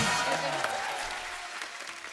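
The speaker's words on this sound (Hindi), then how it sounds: "तालियां जोरदार होनी चाहिए" Studio audience applause on a comedy talk show as a guest is welcomed, a moderately loud continuous patter of clapping with a low hum underneath, fairly even across the short stretch.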